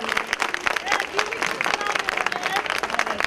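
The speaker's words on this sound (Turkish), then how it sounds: "Alkışlar onlar için gelsin" An outdoor festival crowd applauds a children's folk dance team, dense steady clapping mixed with crowd noise, loud and close throughout.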